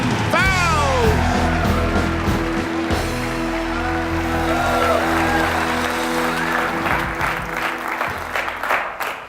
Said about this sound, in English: a big round of applause for your host, Jonathan Foust